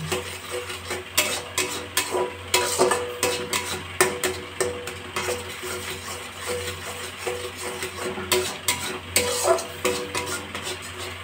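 Food being stirred in a pan over a high gas flame, with repeated scraping and clinking of a utensil against the pan over a soft sizzle and steady background hum, no talking.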